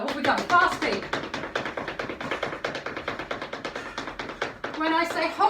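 Feet tap fast on the floor in a workout's fast-feet drill, a steady, rapid patter of light footfalls that lasts throughout, with a voice coaching over it at times.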